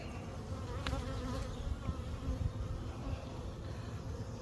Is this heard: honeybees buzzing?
yes